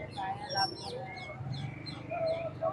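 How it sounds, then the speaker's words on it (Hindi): Birds calling at a busy Sunday bird market where parrots are sold, with scattered chirps and whistled calls over steady crowd chatter and nearby voices. "तोते भाई कौन से तोते हैं ये?"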